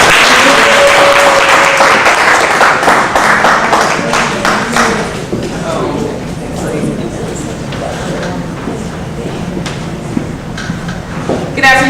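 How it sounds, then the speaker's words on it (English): A crowd at a Mardi Gras speech event at a Black history wax museum breaks into loud, dense clapping that gradually thins, giving way to a voice speaking over the last scattered claps. "So let's give her a round of applause,"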